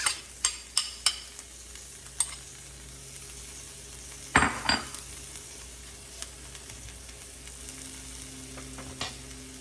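Cauliflower rice, partly frozen, sizzles steadily in a pan for shrimp and cauliflower grits, with a few sharp utensil clicks at the start and a louder burst of stirring midway, no voices.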